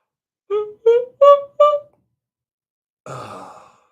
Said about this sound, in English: I'm surprised people aren't flocking here to watch me yawn.